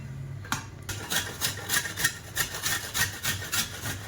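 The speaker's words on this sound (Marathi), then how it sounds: "मोठ्या किसणीने चांगलं किसले हे खोबरं" A piece of dried coconut is scraped hard over a large grater, a loud, close rasp repeating in an even stroke rhythm after a brief knock at the start, with no talking.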